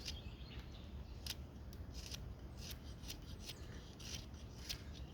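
A knife whittling wood outdoors in the mountains, a faint run of short scraping, shaving strokes in irregular rhythm over steady background hiss, with no talk.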